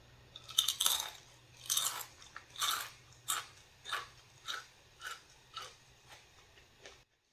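Crunchy snack chewed close to the mic, a steady series of crisp bites and crunches repeating roughly every half second, gradually softening, with no talking.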